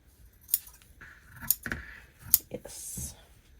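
Several sharp scissor snips through soft quilt batting, spaced unevenly with quiet handling rustles between them, close and moderately loud.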